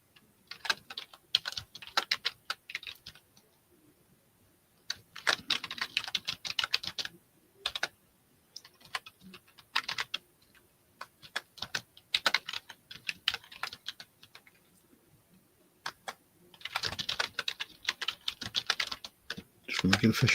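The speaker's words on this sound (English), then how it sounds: "Let me type that in for our official list." Computer keyboard typing in bursts of rapid clicks separated by pauses, fairly close and clear, during a live vintage jewelry auction; no talk over the keystrokes.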